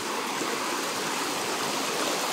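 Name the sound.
heavy rain and rushing water on a mountain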